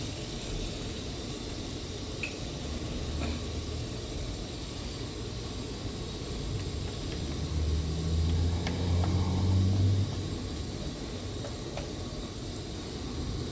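Fried pork with shrimp paste being stir-fried in a pan, a continuous soft sizzling hiss with faint scraping clicks, steady and moderately close, with no talking.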